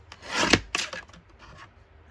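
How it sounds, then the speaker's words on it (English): A paper cutter trims a sheet for a junk journal, giving two quick rasping slices close by, the first longer and louder, followed by a few softer scraping rubs as the paper is handled. "So I'm just going to trim it here so it's straight."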